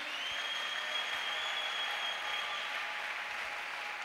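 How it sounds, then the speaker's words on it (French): A church congregation applauding during a sermon, sustained even clapping from a crowd, slightly distant and filling the room without pause. "Acclamons le Seigneur."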